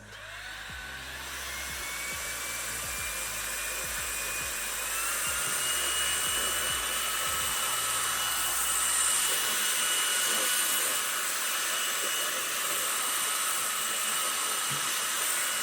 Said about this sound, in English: if you come in with a vacuum from the top, you'll be surprised how much dust it actually picks up